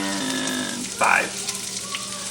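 Ginisang corned beef sautéing in a pan gives a soft frying sizzle that swells into a brief louder burst midway, heard beneath someone speaking.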